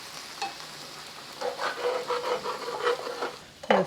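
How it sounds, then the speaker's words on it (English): A utensil scrapes browned bits from the bottom of a frying pan while making Hong Kong style chow mein sauce over lowered heat, with quiet sizzling first and then a run of rhythmic scraping strokes close by, ending in a sharper clatter. "Just try to scrape off the little bits at the bottom of your pan if you can."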